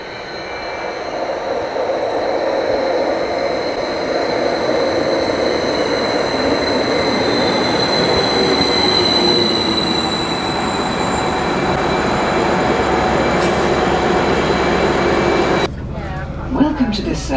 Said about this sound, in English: Barriers are going down, that means our train to Spooner Row is on the way.